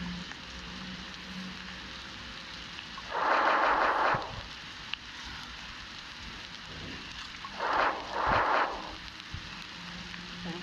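Steady rain hisses across a 99 Days video game map, with two louder, rumbling bursts breaking through the continuous downpour.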